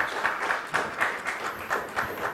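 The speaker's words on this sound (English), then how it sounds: "Round of applause, please." Audience applause at a 2016 banking and financial services leadership summit panel, moderate clapping from a seated crowd with a rhythmic, slightly pulsing texture, fairly close and steady.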